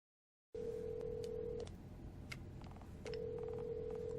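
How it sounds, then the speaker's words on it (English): After a moment of silence, a Nokia phone's ringing tone sounds over the line: a long steady electronic buzz, a pause, then the tone again. "Alright, it's ringing."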